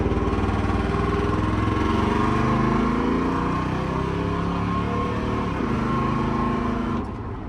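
A 2nd-generation Dodge Ram 1500 pickup engine runs loud and close, with a steady, throaty rumble and slight rises in revs, then settles a little quieter at the very end.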